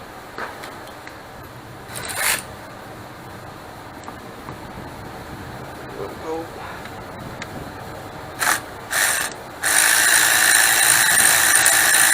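A battery-powered ratchet at work on a Dodge Avenger thermostat housing gives short buzzy bursts, then one longer steady whirring run near the end, close up over faint rustling and tool handling.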